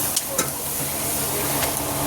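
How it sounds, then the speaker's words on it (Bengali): Water going into a hot pan of tangra fish curry that has already been sautéed, giving a steady broadband hiss and sizzle with a couple of brief clinks near the start, close and continuous throughout. "জল দিয়ে দিলাম, দেখেছেন? জল কিন্তু দিয়ে দিলাম।"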